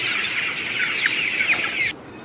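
Village hens in Tamil Nadu cluck softly and continuously while pecking at leafy greens, a close, busy murmur of overlapping calls over low background hum that cuts off near the end.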